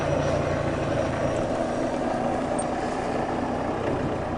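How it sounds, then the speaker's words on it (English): A helicopter takes off during a safari drive near an elephant, giving a steady broadband engine and rotor roar that holds at an even level throughout, with no voices. "It's the first time I've actually been with an elephant, with a helicopter taking off."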